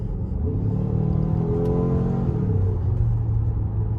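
A twin-turbo car engine revs up with rising pitch, then the tone drops abruptly as the paddle-shifted gearbox changes gear, heard from inside the vehicle.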